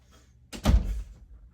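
A door is pulled open to let a cat out of a room, giving a single dull thunk and short rattle at close range, with a faint low rumble trailing after it.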